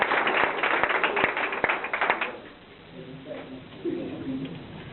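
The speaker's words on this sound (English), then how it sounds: "She deserves your applause, too." Audience applause at a public speaking event, a burst of clapping that fades after a couple of seconds into murmuring voices and room noise.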